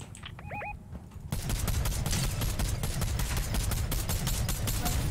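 Fortnite gunfire breaks out after a short quiet stretch with a few chirps, turning into a dense, fast, loud stream of automatic shots that keeps going to the end, with no talk.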